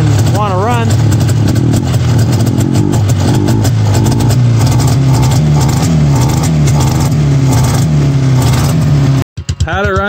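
A Roll-O-Flex snowmobile engine runs loud and close after carburetor adjustment, a steady rough drone with a few revs rising and falling before it cuts out near the end.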